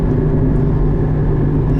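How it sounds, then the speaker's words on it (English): A 2016 Porsche Cayman GT4 with the 3.8 engine taken from the Carrera S runs with a loud, steady, deep drone, constant and close from start to finish with no pause. "Oh, this motor is straight out of the Carrera S"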